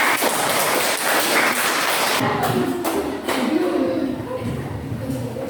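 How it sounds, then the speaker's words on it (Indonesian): Classmates in a school religion class clap together after a group presentation on the sacrament of baptism, a dense burst of hand claps that thins and fades over a few seconds. "Kita berikan tepuk tangan."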